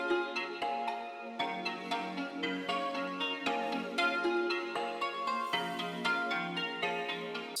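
Layered trap-style beat with a guitar accent, kalimba and a soft pad all playing together in a steady rhythmic loop, full and continuous with no voices.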